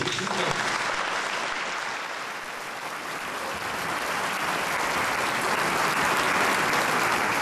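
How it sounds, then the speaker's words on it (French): Audience applause at a municipal staff association award ceremony, a dense steady clapping from a full room that holds for the whole stretch, dipping slightly in the middle before swelling again. "Vous pouvez l'applaudir, bien sûr."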